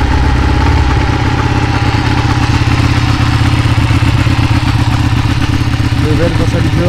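Loud, close Ducati Panigale superbike engine running steadily, a deep throbbing idle with dense mechanical clatter that shifts slightly after a second, continuous throughout with no break.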